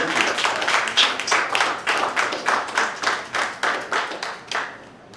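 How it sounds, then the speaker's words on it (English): An audience at a community roast session claps in a steady, rhythmic pattern of about a dozen distinct, fairly loud claps that gradually thin out and fade near the end, with no talking over it. "Can we give you a round of applause?"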